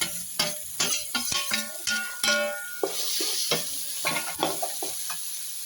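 Chopped ridge gourd tumbles into a hot pan and fries, with a close, busy run of sharp clatters and stirring scrapes over a steady sizzle.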